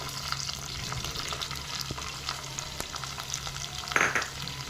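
Chopped onion and a few garlic cloves sizzling over a low flame while being mixed in a pan, a steady hiss with light scraping strokes and one brief louder clatter near the end.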